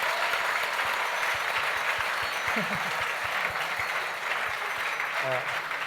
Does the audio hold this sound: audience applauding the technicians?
yes